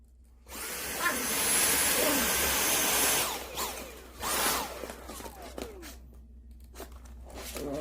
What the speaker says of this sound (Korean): 제가 잠깐 청소기 좀 돌리자.